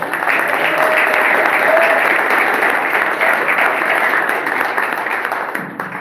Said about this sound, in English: give another round of applause for Dr. Keys